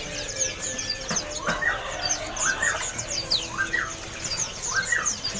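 Cucak rantai songbirds for sale at the Pramuka bird market, giving repeated bright whistled chirps and rising-falling calls over a steady murmur of market background noise.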